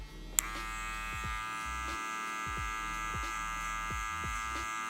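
An electric hair clipper fitted with a number 2 guard buzzes steadily and close while cutting hair during a low taper fade, its hum holding even with light rhythmic passes and no talking.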